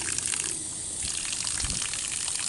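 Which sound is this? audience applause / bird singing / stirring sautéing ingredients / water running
water running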